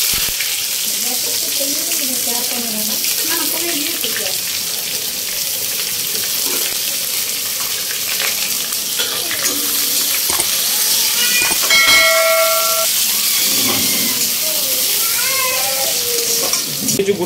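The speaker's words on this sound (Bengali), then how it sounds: "এর মধ্যে এখন কুচো পেঁয়াজ দিয়ে দেওয়া হবে। সেটা আমরা এখন লাল লাল করে ভেজে নেব।" Chopped onions fry in hot oil with dried chillies and bay leaf, a loud constant hissing sizzle with occasional stirring scrapes and faint clinks, close up and without speech.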